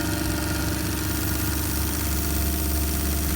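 A brand-new TVR1A twin-cylinder marine steam engine runs steadily, giving off a loud, close, continuous mechanical chugging and hum with no pauses or voices.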